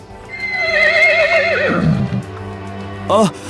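A horse whinnies loudly and close, a long wavering neigh falling in pitch, followed by a short second whinny moments later.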